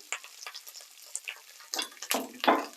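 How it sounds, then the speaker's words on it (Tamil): Mustard seeds spluttering in hot oil, with sharp irregular pops and crackles bursting over a light sizzle, close up and growing louder toward the end. "கடுகு வெடித்து சத்தம் போடுது"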